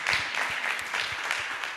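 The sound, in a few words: audience applause for the panelists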